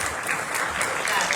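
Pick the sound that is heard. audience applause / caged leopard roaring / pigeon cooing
audience applause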